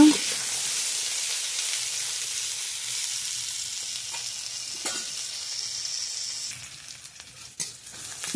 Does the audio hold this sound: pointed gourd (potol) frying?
yes